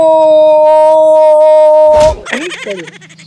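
A person in a Gujarati comedy sketch imitates a dog's howl with a long, loud, steady tone, then breaks off into wavering yelps.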